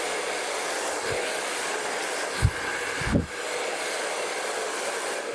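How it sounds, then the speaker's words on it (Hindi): Hair dryer blow-drying a client's hair straight, a loud continuous close whoosh with a few brief bumps and handling knocks as the nozzle moves, no talking. "इस तरीके से ड्राई करना है दोस्तों।"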